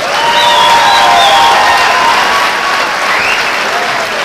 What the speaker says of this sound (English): let's have a nice round of applause for both fighters